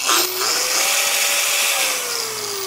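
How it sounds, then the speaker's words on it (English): A Milwaukee variable speed angle grinder, fitted with a wire wheel for metalworking, runs steadily at its slowest setting of 2800 RPM with a whining motor tone that shifts slightly in pitch, loud and close throughout. "a variable speed angle grinder like this Milwaukee one"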